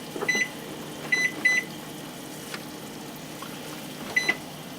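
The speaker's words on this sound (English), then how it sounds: "Timer goes off." Kitchen timer going off while bagels boil, a few short electronic beeps in small clusters, moderately loud and close with faint kitchen background and no talking.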